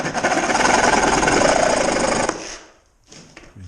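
A Sawzall reciprocating saw rattles loud and close for about two seconds as it cuts nails through plaster and lath, then stops abruptly, followed by quiet handling noises.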